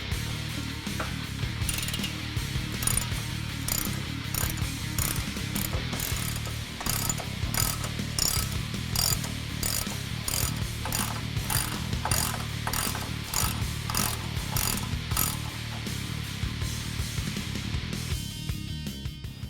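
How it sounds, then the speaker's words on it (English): A ratchet socket wrench with an 18mm socket clicks rapidly and continuously while removing the lower strut nuts on a Ford F-150, a dense, close mechanical ratcheting that runs throughout. "With an 18mm socket, you can remove the lower strut nuts and also the sway bar end link nut."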